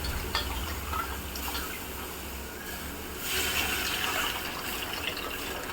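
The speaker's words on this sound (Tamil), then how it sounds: "இந்த புளியை கரைச்சி அதில் ஊற்றிக்கலாம்" Dissolved tamarind water poured into a pot of peppery mutton rasam, a soft, continuous trickling and splashing stream that swells slightly midway, close and quiet.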